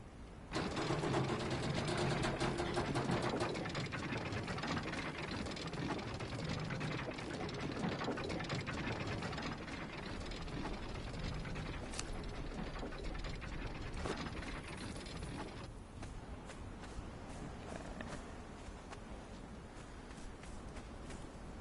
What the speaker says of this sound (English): this is the speed differences of the elevators